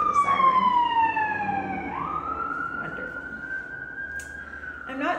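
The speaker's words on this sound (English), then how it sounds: "Pause for the siren." A siren passes by outdoors, its wailing tone dropping and then rising and holding, fairly loud over a low traffic rumble, with a brief clatter near the end.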